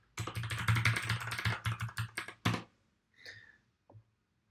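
Quick bursts of keystrokes clatter on a computer keyboard nearby in a quiet room, a rapid run of clicks for about two seconds followed by a few isolated taps.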